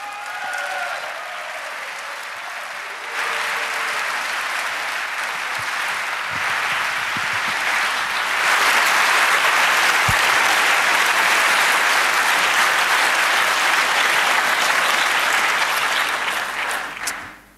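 Sustained audience applause at a 2016 political colloquium as speaker Jean-Yves Le Gallou is called up, starting moderate, swelling louder after a few seconds and holding strong as a dense crowd wash for over fifteen seconds before cutting off.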